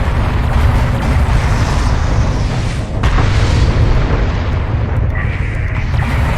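Gunfire on enemy armor during a battle in the Homeworld: Deserts of Kharak game, heard as continuous heavy rumbling booms and bursts of weapon fire, loud and close, with mechanical clatter beneath.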